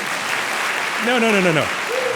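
Audience applause at a debate on whether the rich are taxed enough in the United States, a continuous crowd clapping with a voice speaking over it partway through.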